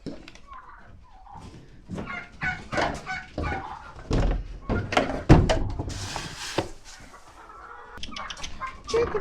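Chickens cluck near a manure pile in a winter garden, with scattered short clucks and scuffling close by as a person talks over them.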